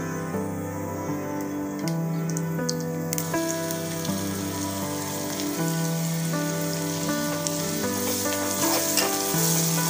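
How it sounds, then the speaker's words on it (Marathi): Mustard and cumin seeds crackle and sizzle in hot oil, a fine popping hiss running under steady background music. "या भाजीसाठी तेल गरम झाल्यानंतर त्यामध्ये जिरे मोहरी घालून घेऊया"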